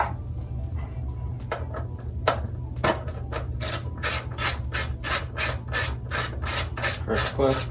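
A hand ratchet loosens 8mm bolts on the number plate of a Honda CRF110 motorcycle, starting with scattered clicks and taps, then a fast, even run of close, crisp pawl clicks over a low steady hum.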